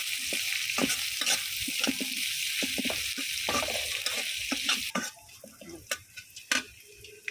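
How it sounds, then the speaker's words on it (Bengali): Dried chanda fish frying with onion and garlic in a pan, a steady bright sizzle with scraping stirs, then a quieter stretch broken by sharp utensil clinks. "পেঁয়াজ আর রসুনের মধ্যে দিয়ে আমি একটু ভাজা ভাজা করে নেব।"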